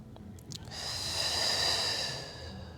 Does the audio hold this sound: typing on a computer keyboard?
no